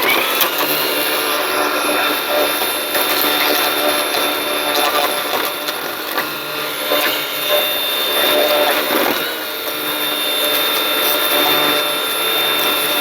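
Ego commercial battery-powered lawn edger cutting along a lawn edge, a steady close whirring with constant gritty scraping that holds level throughout without bogging down.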